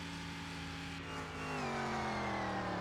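A fast hot rod in Car Mechanic Simulator holds near redline at high speed, its engine a steady, droning tone whose pitch climbs slightly and grows louder partway through, with no talking.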